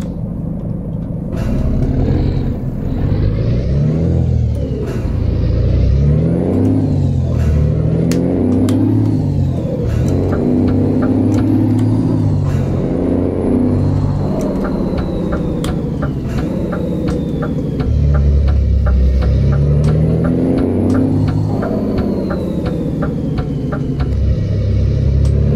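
In the Euro Truck Simulator 2 game, a DAF 105 truck's engine drones steadily at close range, rising and falling as it revs and shifts through gears, accompanied by clicking sounds and no talk.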